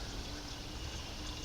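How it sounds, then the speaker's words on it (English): Water pours steadily into the radiator of a 1986 Chevy C10 pickup that sat abandoned for 15 years, a continuous close trickle and splash with no talking. "Gonna get some poured in here."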